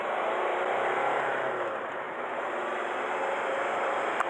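A Ford Fusion with black smoke and low power, showing codes P0238 and P0046, revs with a steady, whooshing engine roar and a faint whine, held fairly even over several seconds.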